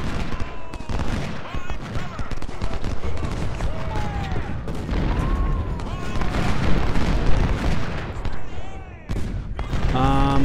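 Volleys of troop musket fire and cannon booms in the Civil War strategy game Ultimate General: Civil War, dense crackling fusillades with heavy thumps running throughout, someone talking over parts of it.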